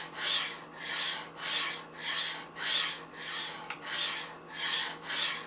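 A knife blade is drawn down the rods of a Spyderco Sharpmaker, held vertical while working the second side of a dull edge; about nine even, rasping strokes repeat in a steady rhythm, close and alone.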